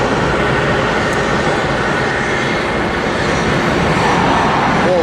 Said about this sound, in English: Another United 737 coming in.